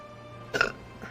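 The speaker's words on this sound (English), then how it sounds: "that was a weird burp, but I needed to get it out." A single short burp erupts close to the microphone, a brief rough burst standing out from a quiet background hum.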